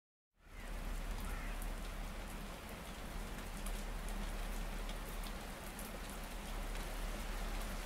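Heavy rain pours down steadily after a brief silent start, a dense even hiss of drops on surfaces that stays loud and unbroken throughout, with no voices.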